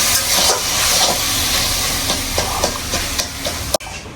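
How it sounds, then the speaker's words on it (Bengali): Amaranth greens cooking in a pan hiss and steam while being stirred, a dense continuous sizzle with soft scraping strokes, ending in a sharp clack and a sudden drop. "শাক যত নাড়বো তত মজা হবে।"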